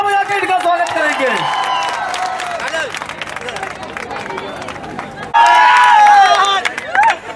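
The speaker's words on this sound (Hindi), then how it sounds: "आप लोग एक बार जोरदार तालियां बजाकर इनका स्वागत करेंगे" A large outdoor crowd at a political rally in Kapasehra, heard as a loud wash of clapping and cheering with chatter and amplified voices over it, swelling sharply near the end.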